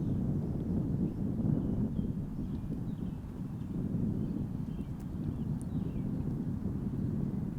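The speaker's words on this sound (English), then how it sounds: "A little bit of wind picking up." Steady wind rumbles and buffets across a disc golf course during a tournament round, a low, continuous roar with little variation and no voices.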